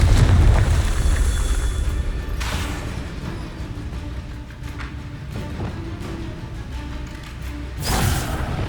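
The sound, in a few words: Confringo explosive spell in Hogwarts Legacy video game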